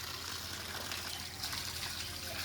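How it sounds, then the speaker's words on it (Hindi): Water is poured onto garden plants, giving a steady, full rushing gush without pause, fairly close and loud. "इधर पौधों को पानी लगाओ, पौधों को लगाओ पानी यहाँ पे।"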